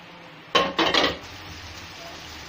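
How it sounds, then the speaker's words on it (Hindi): Beef korma is tipped into a pot and stirred to fry. A few loud clattering scrapes of metal and spoon come in quick succession, then settle into a low, steady sizzle. "अब इसी पतीली के अंदर हम इस कोरमे को उंडेलते हैं और इसको अच्छे से भुनेंगे।"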